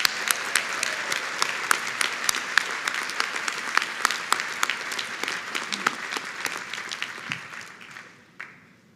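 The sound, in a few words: commencement audience applauding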